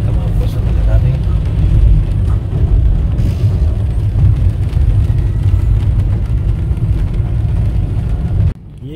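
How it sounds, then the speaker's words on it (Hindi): Road traffic on the busy GT Road in Gujar Khan, Pakistan, heard as a loud, constant rumble of car and engine noise close by, cutting off abruptly near the end. "रावलपिंडी में बहुत ट्रैफिक थी और इधर भी गुजर खान में ट्रैफिक ज़्यादा है"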